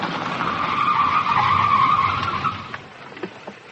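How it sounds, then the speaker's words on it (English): Tyres screech and skid through a long car chase in a radio drama, a loud sustained squeal that holds steady before easing off into a few sharper engine and tyre bursts near the end. "Chasing the wrong ruddy car."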